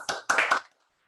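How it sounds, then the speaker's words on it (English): A short burst of applause at a graduation ceremony: three quick bursts of hand claps over about half a second, then silence, brief and moderately close. "please join me in one more round of applause"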